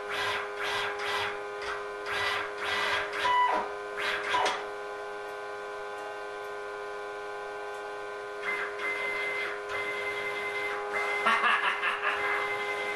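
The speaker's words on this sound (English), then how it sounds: "this is the very first motion of the mill" A homebuilt CNC mill making its very first motion, giving off tonal stepper-motor whine and buzzing in bursts that stop midway and then resume, steady and fairly close with no talk.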